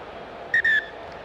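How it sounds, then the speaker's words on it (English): A referee's whistle at half-time of a Zimbabwe versus Chile rugby sevens match at the Hong Kong Sevens qualifier, two quick shrill blasts, a short pip then a longer note, sounding clearly over low stadium background. "the whistle for half-time"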